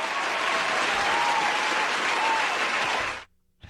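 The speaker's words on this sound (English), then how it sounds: "I'm actually going to give you a round of applause to being early." A sustained round of applause from a comedy show audience, loud and dense clapping lasting about three seconds before stopping abruptly.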